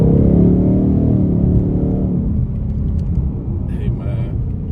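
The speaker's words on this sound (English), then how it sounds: "I don't know if you guys can hear that downshifting." Engine of a Ford Mustang dropping through downshifts, a deep rumble that winds down over a few seconds, with someone talking over it.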